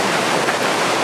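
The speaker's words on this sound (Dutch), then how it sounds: "We lopen in het bos en we zijn in het bos waar de rivier is." A river flowing through a forest, a steady close wash of rushing water filling the short moment alone with no voices.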